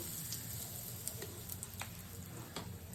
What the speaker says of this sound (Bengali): রাঁধুনি ফোড়ন দিয়েছি, হিং দিচ্ছি